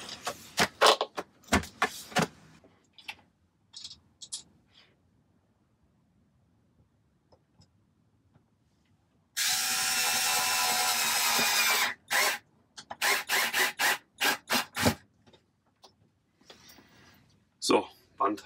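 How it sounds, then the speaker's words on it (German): A wall bracket being fastened with a screw inside a camper van: a short burst of power-driver whirring, with brief clicks and handling noises before and after it, close and fairly loud. "Und da setzen wir jetzt die Wandhalterung rein mit einer Schraube erstmal."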